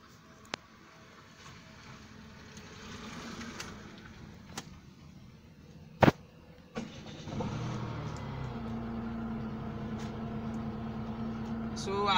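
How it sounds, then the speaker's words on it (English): Automatic transmission car started from inside the cabin: scattered clicks and a brief starter crank, then the engine catches and settles into a steady near idle hum, with someone talking throughout. "So I'm starting the car right now."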